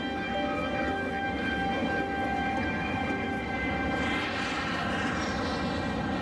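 Airliner Flight 232, bound for Chicago, cruises after departure, a continuous loud engine roar with a steady whine and no voices.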